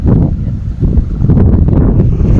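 Strong wind buffeting the microphone outdoors, a loud continuous low roaring rumble with gusty fluctuations throughout.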